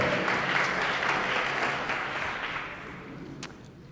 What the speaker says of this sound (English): give him a warm round of applause because he's feeling good